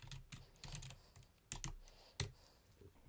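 Typing on a computer keyboard: a handful of close, sharp key clicks in irregular bursts, quiet and alone with no voices.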